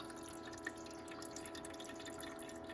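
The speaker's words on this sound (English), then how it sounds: "now you can hear the water" Water trickling into the reservoir of a Frigidaire countertop ice maker, a faint steady dribble with small drips over a constant mechanical hum, no talk.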